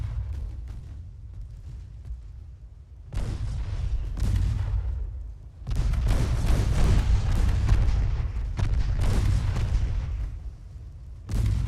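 Warship gunfire in the naval video game Ultimate Admiral: Dreadnoughts, repeated heavy booming salvos with sustained low rumble, swelling and overlapping in waves with short quieter gaps.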